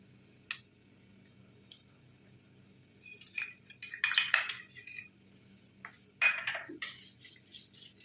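A spoon stirs a thick starch mixture for a homemade face cream, giving sparse metallic clinks and scrapes that grow busier into short clustered bursts of scraping, close and fairly quiet.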